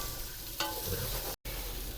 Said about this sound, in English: just going to give it a bit of a stir for, just a couple seconds here, just to kind of get everything moving